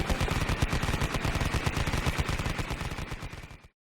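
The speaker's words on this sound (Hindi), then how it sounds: "कार में से निकलकर 5 आतंकवादियों ने AK-47 से ताबड़तोड़ गोलियां बरसाना शुरू कर देते हैं।" An AK-47 sound effect delivers loud, close automatic gunfire, with a rapid, even string of sharp shots that runs for over three seconds and then cuts off abruptly into silence.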